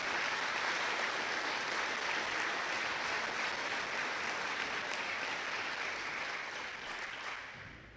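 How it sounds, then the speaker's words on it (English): Sustained audience applause for students at a high school senior honors night, a dense steady wash of many hands clapping that holds strong before tapering slightly toward the end. "So let's give all of these students a big round of applause."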